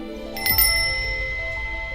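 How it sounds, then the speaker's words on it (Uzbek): A small bell rings with a couple of quick, bright strikes. Its tone lingers and fades at moderate volume, with no talking. "agar qo'ng'iroq ovozini eshitsang"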